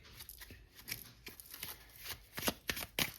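Tarot cards handled and shuffled during a reading, soft papery riffles and flicks coming in quick bursts, quiet and close, with no voice.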